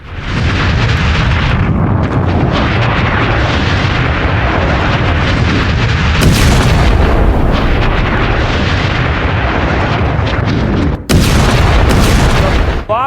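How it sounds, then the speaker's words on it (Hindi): Hezbollah double rocket launcher firing toward Israel, a dense, sustained roar of launches and booms at full loudness, harsh and continuous with a few sharper surges, no clear talk. "ये डबल लॉन्चर है हिजबुल्लाह के, डबल लॉन्चर से इजराइल पर दाग दिया है।"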